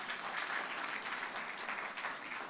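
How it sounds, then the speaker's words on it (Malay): Audience at a Malaysian youth club launch event gives a sustained round of applause, dense even clapping filling the room at a steady level throughout. "Okey, bagi tepukan kepada."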